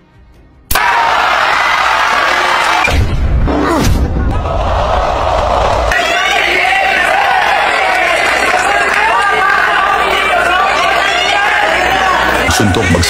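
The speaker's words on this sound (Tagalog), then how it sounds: "sigawan ang Japanese crowd para sa suporta sa kanilang champion" A Japanese crowd roars and shouts in support of their boxing champion during round 3 of a boxing match, a loud, dense, continuous wall of voices with occasional thuds, sustained for most of the clip after a quiet start.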